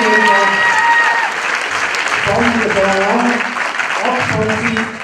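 An audience gives warm applause after a group's dance performance, with steady clapping throughout while a person speaks over it.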